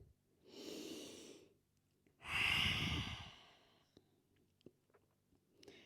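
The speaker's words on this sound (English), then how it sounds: "Take a moment to take a breath." Two slow, audible breaths during family yoga, a soft inhale followed by a louder, fuller exhale, then quiet with a few small clicks and rustles.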